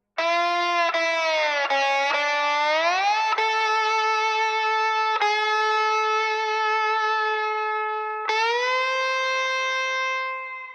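A dry, unprocessed slide guitar line plays alone: sustained notes glide smoothly up and down between pitches, with a few plucked attacks, bright and close, fading slightly at the end.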